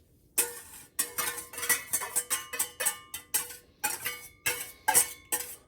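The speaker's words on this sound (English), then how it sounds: "We're gonna add our nice whipped up eggs." Whipped eggs hit a buttered pan and get stirred, a steady series of sharp utensil clicks and scrapes against the pan, about two per second, close and fairly loud with no talking.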